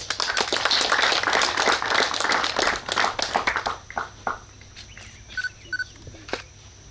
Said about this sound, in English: A thunderous clap.